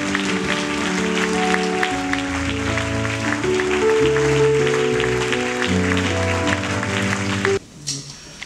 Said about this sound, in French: Je vous demanderai de vous lever sous vos acclamations